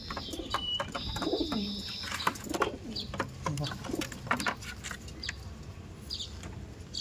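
Kaldom pigeons cooing in a loft, soft low coos mixed with wing flaps, rustling and clicks, under quiet talk from a person.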